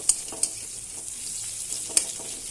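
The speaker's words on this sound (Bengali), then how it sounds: "এখানে পেঁয়াজটা ভাজা হয়ে গেছে লাল লাল করে" Onions frying in oil with panch phoron, a steady close sizzle with a few sharp spatula scrapes and clicks against the pan.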